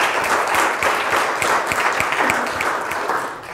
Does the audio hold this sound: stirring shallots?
no